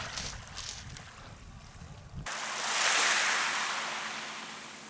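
Waves wash onto a rocky beach on Northern Vancouver Island, first as a low rumble, then a bright, building surge that swells and slowly recedes, near and fairly loud, with no one talking.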